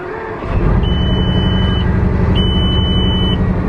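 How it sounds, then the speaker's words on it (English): A Bugatti supercar starting up, a loud steady engine drone rising from quiet to a sustained idle, with two long high electronic beeps or chimes sounding over it. "I've been given permission to start the Bugatti"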